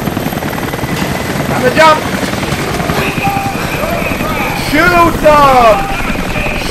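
A helicopter in the video game Rise of the Tomb Raider makes a loud, continuous rotor chop throughout, while a voice speaks over it.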